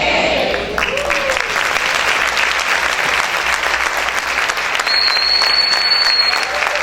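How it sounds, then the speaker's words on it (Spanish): A church congregation applauds steadily throughout, a dense, loud wash of clapping with a faint whistle-like tone riding above it near the end. "Un aplauso para el Señor, déselo fuerte."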